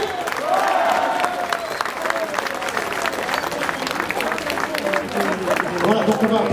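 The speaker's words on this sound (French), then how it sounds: "Je vous demande un grand applaudissement, mesdames et messieurs, s'il vous plaît." Spectators at a cycling race applaud and cheer, steady crowd clapping throughout, with an announcer's voice heard over it.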